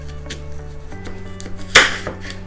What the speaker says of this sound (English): I'm just chopping it in half.